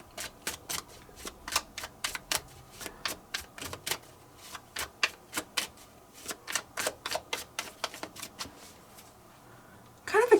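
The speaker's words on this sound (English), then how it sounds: "I'm going to pull 3 cards specifically on just the situation" Tarot cards being shuffled by hand, a run of crisp, evenly spaced riffling snaps close to the listener, about two to three per second for ten seconds, with nothing else heard.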